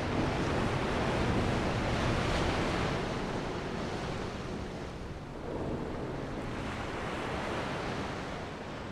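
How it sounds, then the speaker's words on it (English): Ocean waves wash steadily around a sailing ship in the video game Dark Souls 2, a continuous loud rush of surf with wind noise, no talking. "Okay, we're sailing the seas now."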